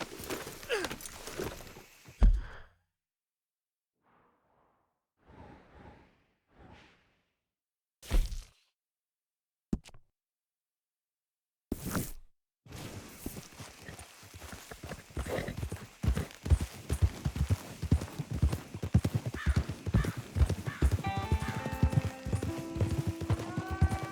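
A horse's hooves clip-clop in a rapid, steady rhythm in Red Dead Redemption 2, loud and close, with a few sparse thuds before the run settles in.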